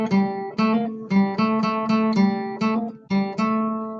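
Electric guitar playing the opening riff of a song: a repeating run of single picked notes with steady rhythm and ringing sustain, close and clear, with no talking.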